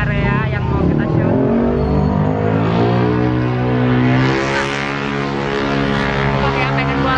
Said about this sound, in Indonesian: Berisik banget motor kayak gitu, benci banget gua.